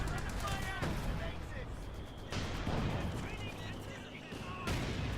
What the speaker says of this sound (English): just more bombing runs from the RAF